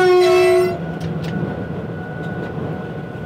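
Freight train heard from the cab on the Ambérieu–Evian line, with a loud horn blast at the start, then a steady rumbling run with faint rail clicks and a constant low engine drone.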